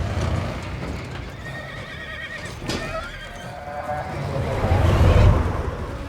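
Horses whinny and neigh over steady clip-clopping hooves in a film scene from Logan, the calls rising clearly above a low rumble, with faint voices mixed in.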